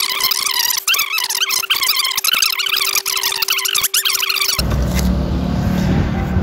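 A 2023 Kawasaki ZX-25R sport motorcycle engine revs in quick, high-pitched, rising and falling bursts with a steady whine underneath, then cuts to outdoor ambience.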